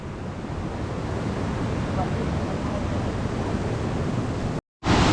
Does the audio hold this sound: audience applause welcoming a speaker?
no